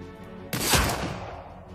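A single Deadeye shot rings out in Shadowrun Dragonfall, one sharp, loud gun report that decays over about a second, heard alone.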